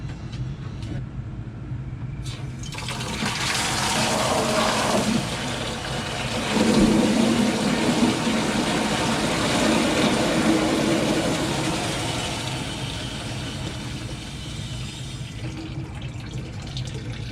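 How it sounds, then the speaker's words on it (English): Water rushing and draining from a newly installed Rheem tankless water heater, a broad steady hiss that swells after a few seconds, holds loud through the middle and slowly tapers off, with no talking. "Drain some of this water out."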